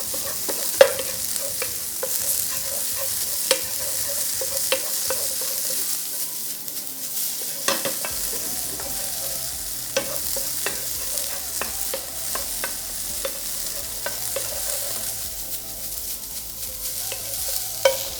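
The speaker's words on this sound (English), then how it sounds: "Which will fry a little bit, so we can add that to our sauce." Onion frying and sizzling in a pan on a gas stove for a vegan sauce, a steady close hiss with repeated sharp clicks and scrapes of stirring throughout, no talking.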